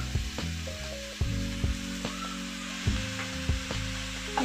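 Finely chopped mushrooms sautéing in a pan: a soft sizzle with scattered scrapes and taps of a spatula stirring, close and fairly quiet.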